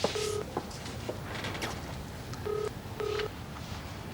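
A telephone rings on the line from a prison phone call, a few short electronic ring tones in pairs through a noisy, hissy connection.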